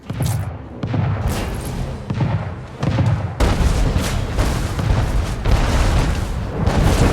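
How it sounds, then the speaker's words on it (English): Naval cannon fire in Anno 1800, a dense barrage of booming shots and explosions rolling continuously during a sea battle, loud and heavy with overlapping blasts. "Fleet, prepare to fire!"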